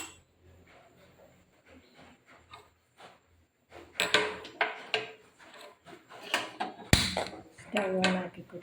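A spoon stirs a pot of Kerala olan with salt, torn bird's eye chillies and a glass of water, giving sharp, irregular scraping and clinking bursts in the middle and end, after a quieter stretch.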